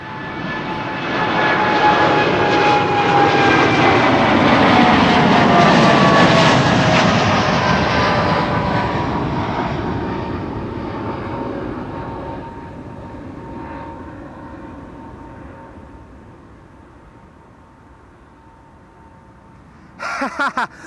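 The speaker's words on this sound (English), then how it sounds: "I'm going to stick with Air Canada. It's going to Montreal, flight 901." Air Canada jet airliner on flight 901 to Montreal at Amsterdam Schiphol Airport, a loud roaring engine rush with a whining tone that swells, peaks, then slowly fades into the distance, ending with a brief clatter.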